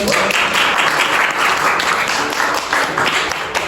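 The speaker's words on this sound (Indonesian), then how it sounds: "Tepuk tangan." Applause from a class audience after a group presentation in a banking and finance course, many hands clapping densely and steadily, loud and sustained throughout with slight swells.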